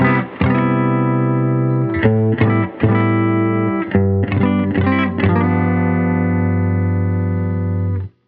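Heavily fuzz-distorted electric guitar played through an amp, loud sustained chords with brief breaks between strums, no voices.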